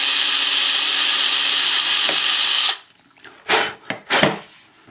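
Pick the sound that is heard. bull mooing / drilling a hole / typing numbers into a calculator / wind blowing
drilling a hole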